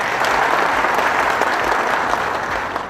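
Dense, steady applause from an audience at an Indonesian speech by Kang Dedi Mulyadi fills the whole stretch, loud and continuous without a break.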